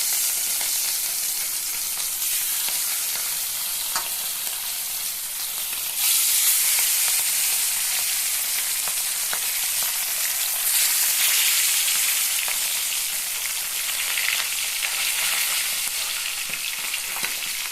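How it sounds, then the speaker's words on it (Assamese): Pieces of fish frying in hot oil in a home kitchen for an Assamese fish curry: a steady, dense sizzle and crackle runs throughout, swelling louder partway through, with no talking. "এতিয়া মোৰ তেল পকিলে মই মাছবোৰ এপিচ এপিচকৈ ফ্ৰাই কৰিম"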